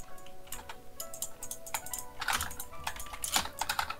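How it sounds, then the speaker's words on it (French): A computer keyboard clatters with rapid, irregular keystrokes as someone plays Rocket League on keyboard and mouse, in close-miked bursts with brief pauses and no talking. "vous pouvez bien entendre, hein, on est bien au clavier"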